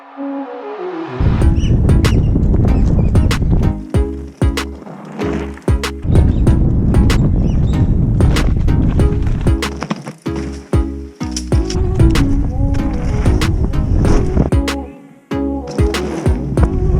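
Mountain bike with a newly installed fork on a test ride, loud close rattling and rumbling from tyres and frame over rough terrain, with clanks and bumps from jolts along the way.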